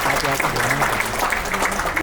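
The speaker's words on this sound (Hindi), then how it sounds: "Big round of applause for her." An audience at a Laila Majnu fan meet claps in steady, dense applause while a voice talks over it.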